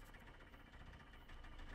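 A stock car engine idling roughly in the driving game Jalopy, with a continuous low rumble and shaky, vibrating pulse that holds steady the whole time, with no voices.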